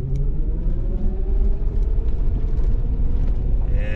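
Suzuki Sidekick electric conversion with a Hyper9 motor pulling away, a steady, loud low rumble of road and drivetrain noise with a faint rising whine, no engine pulses.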